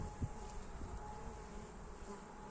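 Honeybees hum in a steady, low drone at an opened hive during an inspection, close and continuous with a few brief louder buzzes near the start, no talk.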